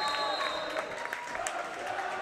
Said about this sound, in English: Odd cheering section they have here.